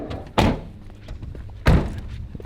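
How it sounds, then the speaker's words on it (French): Two solid thuds of a car door being shut inside a vehicle, each a single sharp slam followed by muffled interior rumble, spaced about a second apart. "Vous fermez la porte"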